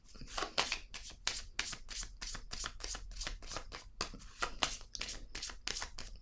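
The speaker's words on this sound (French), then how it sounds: "Je vais piger une autre carte." Tarot cards being shuffled and drawn by hand, a close run of quick papery riffles and slaps in an uneven rhythm, with no talking.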